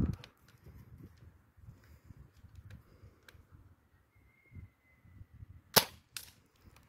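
Dartzone Blitzfire toy dart blaster fired outdoors, a faint low rumble of wind and handling followed by a sharp snapping shot and a second crack close together near the end.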